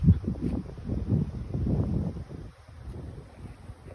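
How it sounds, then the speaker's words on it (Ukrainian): Gusty wind buffets the microphone in low rumbling bursts at an outdoor bee yard, steady and fairly loud throughout, with no voices. "сьогодні вітряно"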